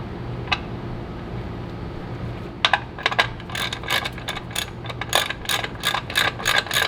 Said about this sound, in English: And I'm gonna tighten it down to 30 foot-pounds